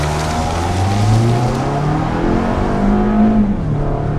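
2019 Toyota RAV4 accelerating in sport mode, a steady engine drone heard from inside the cabin, gradually rising in pitch with a slight upshift near the end, alone without talk.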